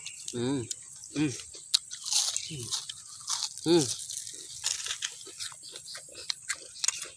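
Crispy cassava leaf chips are bitten and chewed up close, a string of sharp dry crunches, with a person talking between bites.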